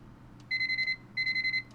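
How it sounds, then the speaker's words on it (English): A video game alarm clock in Nancy Drew: Curse of Blackmoor Manor rings in two quick bursts of four bright, evenly spaced electronic beeps, clear and close with no talking. "Hey, it's a less loud and annoying alarm."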